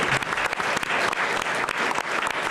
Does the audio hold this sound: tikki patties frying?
no